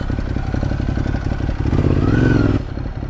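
A motorcycle ridden on the road, its engine droning steadily and then swelling into a louder rev before dropping away, with wind rush and clatter, loud and close throughout.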